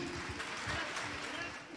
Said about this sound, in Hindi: तालियों की गूंज